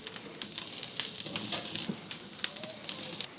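Tomato dipped in garlic butter sizzles over an open grill flame, a steady, quiet crackling hiss punctuated by frequent sharp pops, with no talking.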